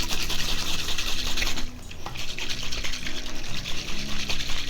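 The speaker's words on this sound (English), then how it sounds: "just a nice little shake" Puree rattles and sloshes inside a cocktail shaker with no ice, a steady close liquid churning that dips briefly midway, then resumes.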